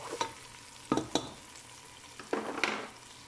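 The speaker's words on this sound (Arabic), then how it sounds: "وقلب البصل حتى يذبل وتصير هذه البصلة تصير لينة نوعا ما" Onion is stirred and softened in a pan, with quiet frying and several distinct spoon clanks and scrapes against the metal at irregular intervals.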